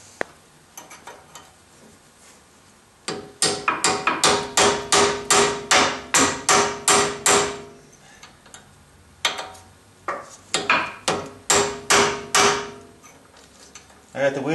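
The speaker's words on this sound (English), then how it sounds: "I'm going to go onto the back side with a chisel, put it in between that notch and try to spread it a little bit." Hammer blows drive a chisel into the notch of an upper ball joint on a Ford Explorer, struck in two quick rhythmic bursts of about a dozen sharp metallic knocks each, close and loud in a quiet garage.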